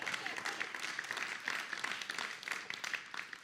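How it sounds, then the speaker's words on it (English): Faint audience applause for a company president and CEO, a soft, steady wash of clapping heard at a distance and low in level throughout. "So give him another round of applause there."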